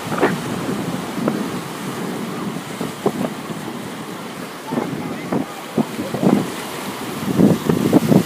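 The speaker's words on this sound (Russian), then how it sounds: "Здесь очень сильный ветер." Strong wind at Karon Beach, Phuket buffets the microphone in a continuous roar, with intermittent gusts and large waves' surf rumbling underneath.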